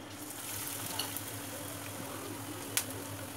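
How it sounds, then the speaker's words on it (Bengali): Potato chops filled with peas and coconut fry in hot oil, giving a quiet, even sizzle with a couple of faint clinks, steady throughout. "আমি এসব ফটাফট করে এবার ভেজে নিই ভালোই গরম হয়ে গেছে"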